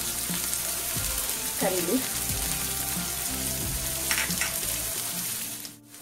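Chopped onion hits a hot pan and fries with a steady sizzle, punctuated by a few clanks of the spatula stirring, close and continuous; a brief spoken word sits under it.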